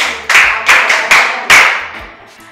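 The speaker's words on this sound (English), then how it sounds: "Clap for him." Several sharp claps in quick succession from a small group, close and loud, trailing off toward the end with no talking.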